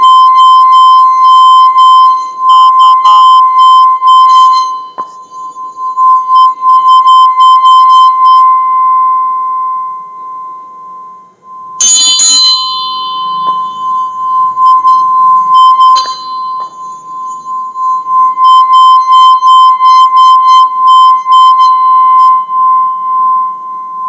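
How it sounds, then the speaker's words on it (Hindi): A steady, sustained tone from a bell rung by rubbing its rim in music therapy hums continuously, with occasional brief clinks and small handling noises along the way. "ये देखिए घंटी है ये, लेकिन उसकी आवाज देखिए घिसाने से घिसाने से"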